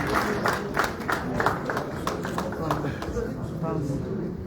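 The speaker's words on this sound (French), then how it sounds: "Applaudissez Blaise Boula qui vient de faire son entrée" Applause at a ceremony as a guest makes his entrance: scattered, uneven clapping from a crowd comes and goes in bursts while a voice talks over it.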